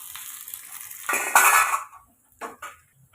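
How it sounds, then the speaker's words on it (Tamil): Metal utensil scraping and clanking in a pan while onion and curry leaves are sautéed, with a loud burst of stirring followed by a couple of short scrapes. The sound is close and heard alone. "கொஞ்சம் கருவேப்பிலை சேர்த்துட்டு இதில் வதக்கி விட்டுக்கலாம்"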